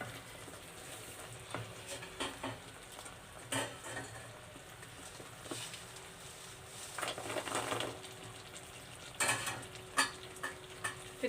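Khurma dough pieces fry in a pan with sugar syrup, a soft low sizzle broken by intermittent stirring scrapes and light utensil clinks, fairly quiet and without talk.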